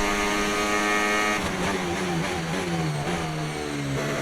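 Formula 1 car engine from the F1 25 game at the Bahrain circuit revving hard, a loud continuous high-pitched whine with rising and falling gear changes, with no talk over it.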